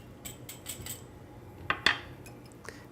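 A spoon stirs arrowroot into coconut milk in a pot for dairy-free shrimp bisque, a handful of light metallic scrapes and clinks, two sharper knocks standing out near the middle, otherwise quiet.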